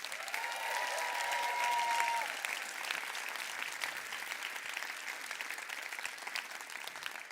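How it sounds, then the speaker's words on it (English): A convention audience at the My Daily Choices Awakening Convention breaks into sustained applause, a dense, even clatter of many hands that holds steady and slowly thins toward the end. "Give all yourselves a round of applause."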